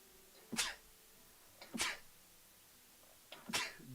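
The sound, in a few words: sneezing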